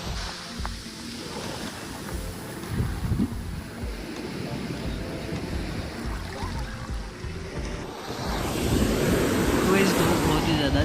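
Wind and surf at a beach, a constant roaring wash of waves with heavy wind buffeting the microphone, swelling louder in the last few seconds.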